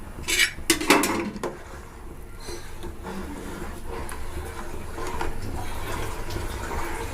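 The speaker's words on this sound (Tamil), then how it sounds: "ரைஸ் ஆட் பண்ணிட்டு நல்லா கிளறி விட்டுடணும்" Clattering of a utensil against a pot, then a steady bubbling, watery churn as rice is stirred into boiling masala water for mutton dum biryani.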